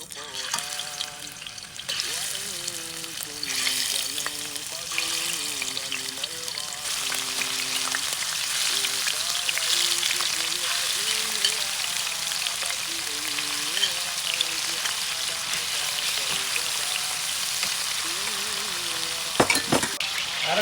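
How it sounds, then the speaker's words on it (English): Seasoned shrimp fry in a pan with a steady, loud sizzle and the occasional clink of a utensil, while a voice talks over it throughout. "So now we're going to be frying them until they're thoroughly cooked."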